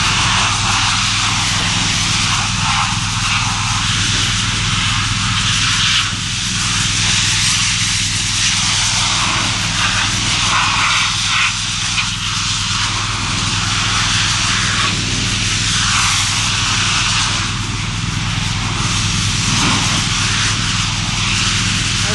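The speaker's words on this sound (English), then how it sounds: "And I'm going to wash this muddy thing." Mud is being washed off a motocross bike after a muddy track ride, with a loud, steady, engine-like spray drone running without a break the whole time.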